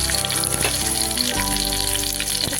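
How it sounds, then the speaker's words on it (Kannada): Oil frying in a pan until golden, a loud, dense, steady sizzle close up with a faint hum running under it and a couple of light knocks, no voices. "ಸ್ವಲ್ಪ ಗೋಲ್ಡನ್ ಕಲರ್ ಬರೋವರೆಗೂ ಸ್ವಲ್ಪ ಫ್ರೈ ಮಾಡ್ಕೊಳ್ಬೇಕು."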